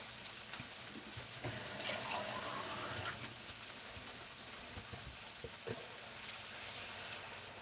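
Water running steadily from a kitchen tap into a mug, a continuous even splashing hiss that fills the whole stretch at moderate level.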